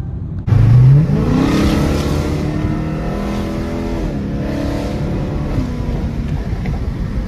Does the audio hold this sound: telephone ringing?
no